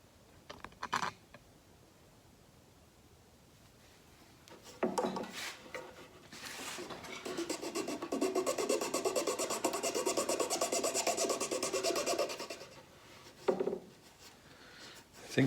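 Sandpaper rubs across a wooden demilune table in short scratchy passes, then a longer sustained stretch of rasping strokes, close and fairly loud, with brief handling noises around it.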